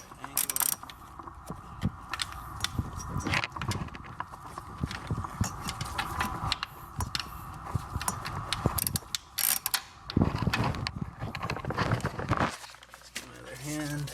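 A torque wrench with a spark plug socket ratchets in short bursts of clicks on a 2012-or-later Subaru Impreza with the FB 2.0 engine, alongside tool clatter and handling noises up close, with intermittent talking.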